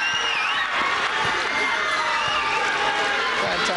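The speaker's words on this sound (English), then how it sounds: "The crowd love that." A large crowd cheers and shouts after Samoa scores a goal at the Pacific Games, with whistles and whoops rising over a continuous roar and some nearby voices.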